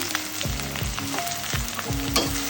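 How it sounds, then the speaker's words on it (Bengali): Dried chilies and onion hit hot oil in a pan, giving a steady close sizzle with repeated soft stirring scrapes at a regular pace and no voices. "কয়েকটা শুকনা মরিচ আমি তেলে দিয়ে দিব একটু ঘ্রাণের জন্য দিয়ে দিব পেঁয়াজ দিয়ে দিলাম"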